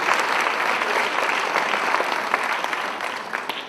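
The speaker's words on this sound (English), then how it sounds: "So a big round of applause for Shankar" An audience at a ghatam arangetram, a debut performance on the South Indian clay pot drum, breaks into continuous applause, dense and steady for the whole stretch, with no speech on top.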